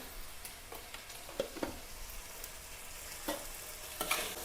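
Onion, green chilli, ginger and tomato sauté with salt in a pan, a soft low sizzle broken by occasional spoon scrapes and clinks as the mix is stirred.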